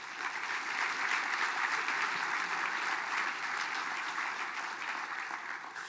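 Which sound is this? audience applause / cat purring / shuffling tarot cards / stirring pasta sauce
audience applause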